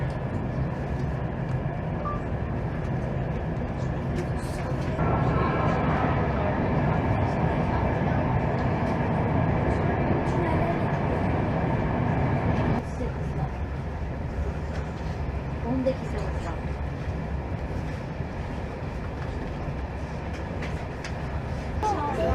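A passenger train in motion produces a steady low rumble and rolling wheel noise from inside the carriage, growing louder for several seconds midway, with occasional voices in the background.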